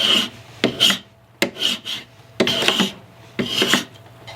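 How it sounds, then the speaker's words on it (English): A hand scraper shaves a wooden wedge for a W. Vance sash plane, making four or five rasping strokes at an uneven pace, each a close, dry, gritty scrape with short pauses between. "use a scraper and just butt this up against something and just scrape a little bit off at a time until it fits just perfect"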